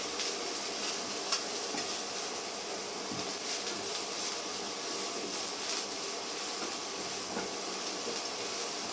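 Chopped eggplant and browned onion fry in a pan, giving a continuous faint sizzle and hiss with a few light stirring taps.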